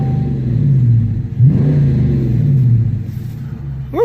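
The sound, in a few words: 2019 Dodge Challenger RT V8 exhaust revving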